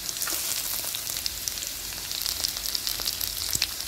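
Capsicum and mixed vegetables fry in a pan for vegetable Maggi masala noodles, a steady close sizzle with scattered small crackles and no voices.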